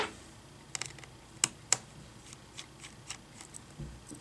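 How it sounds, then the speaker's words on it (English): Small screwdriver working on the four screws of an Acer Aspire E11 laptop screen assembly, giving a few sharp metallic clicks and light scrapes spaced irregularly in a quiet room. "We use our screwdriver to remove the 4 screws."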